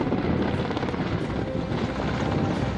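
An Indian Air Force Mi-17 V5 helicopter scooping water from Bhimtal to fight a forest fire, its loud steady rotor and engine roar filling the whole stretch without pause, close and continuous.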